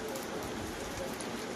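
Rain falling over a countryside village among fields, a steady soft hiss of drops with no breaks, faint and even throughout.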